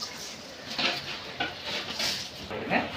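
Washed lean meat dropped into a cooking pot holding yogurt and spice powder, giving a few clattering, scraping knocks and soft wet thuds in short separate bursts.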